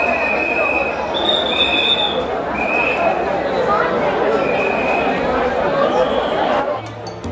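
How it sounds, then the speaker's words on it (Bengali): Busy platform ambience at Tarakeswar railway station, with a steady crowd murmur and people chattering throughout, repeated high metallic squeals of train wheels on the rails, and rolling rail noise that cuts off abruptly near the end. "তারকেশ্বর স্টেশনে চলে এসেছি এই যে ভিতরে ঢুকছি"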